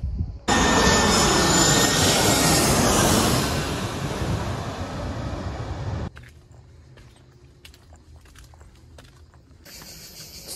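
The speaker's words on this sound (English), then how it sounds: "the planes fly right overhead to the airport" A plane flies low overhead coming in to land at the airport on Corfu, a loud, close roar that swells and then fades, followed by quieter background noise.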